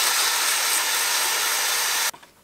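An engine valve spins in a cordless drill while being rubbed clean with WD-40, a loud steady high whirring grind that cuts off abruptly near the end, followed by a faint clatter.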